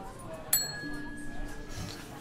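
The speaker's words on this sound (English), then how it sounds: "But let's ring the bell." A service bell on a counter gives a single sharp ding that rings on briefly and fades beneath quiet room tone in the video game Contradiction.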